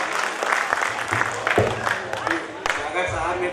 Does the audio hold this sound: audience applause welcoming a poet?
yes